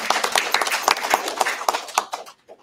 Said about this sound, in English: Let's give a moderate clap and appreciation for everyone.